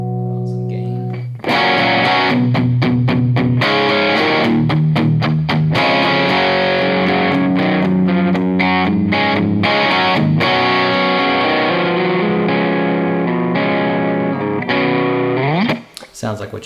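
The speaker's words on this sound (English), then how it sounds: "This is our distortion side." Electric guitar played through the distortion side of a Karma Machine Shop effects pedal, loud and saturated chords and riffs ringing steadily for most of the stretch, ending with a brief cut and decay.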